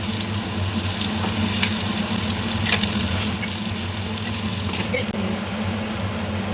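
Bitter gourd roasting in a pan as it is mixed, a steady dense sizzle with soft stirring scrapes throughout, fairly loud and close, with no voice.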